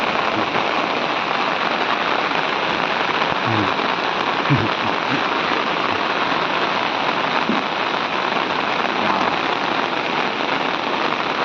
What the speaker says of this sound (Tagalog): Kasi umuulan na yan.